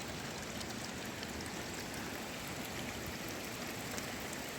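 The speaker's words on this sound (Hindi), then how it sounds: "पानी का झरना जो बहता है बहुत छोटा वाला है" A small waterfall on the Lapaz Waterfalls trek gives a steady, even rush of flowing water, moderately faint and unbroken, with no voices.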